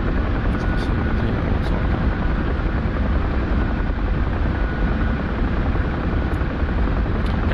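Steady, loud helicopter rotor and engine drone in the DCS flight simulator, a dense unbroken whir lasting several seconds with faint clicks on top and no talk.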